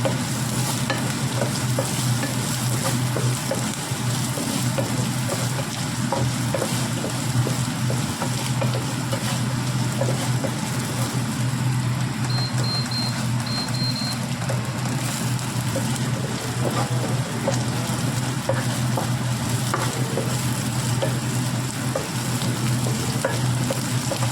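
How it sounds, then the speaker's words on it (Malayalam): Green chilli, garlic and ginger sauté in oil for a rose apple pickle, a loud, steady close sizzle and hiss with constant stirring scrapes throughout, plus a faint beeping midway. "ഇപ്പം നമ്മൾ പച്ചമുളക്, വെളുത്തുള്ളി, ഇഞ്ചിയൊക്കെ ഇട്ട് നമുക്കിത് നല്ലോണം ഒന്ന് വഴറ്റി കൊടുക്കാം"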